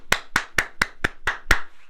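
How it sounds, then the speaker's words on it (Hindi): Hand clapping: seven crisp, evenly spaced claps in a quick steady rhythm, close and clear with no talk. "तालियां"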